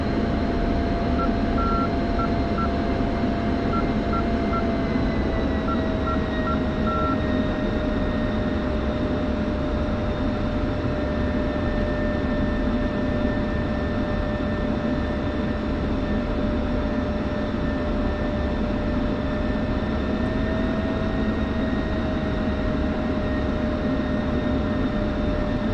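Jet aircraft in DCS World run engines steadily during a formation takeoff, a loud continuous roar with sustained whining tones that shift slightly in pitch across the run, with no voices.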